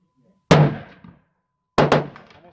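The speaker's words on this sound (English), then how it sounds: "The next three shots are from my friend Daniel." Shots from a 7mm-08 Remington rifle at an outdoor range: a single sharp report, then after a pause two quick reports in succession, each with a short decaying echo and no talk.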